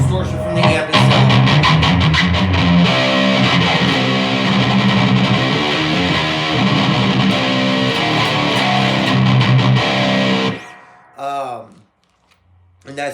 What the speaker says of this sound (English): Mainly for distortion, I'm just running distortion from the amp itself.